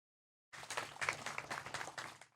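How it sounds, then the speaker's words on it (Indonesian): An audience at a disaster-volunteer dialogue event in Banyumas breaks into applause, a dense, moderately distant patter of many hands that starts abruptly and fades after about two seconds. "Tepuk tangan."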